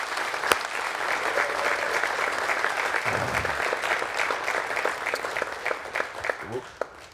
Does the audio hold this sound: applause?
yes